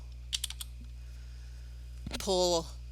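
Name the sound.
typing on a computer keyboard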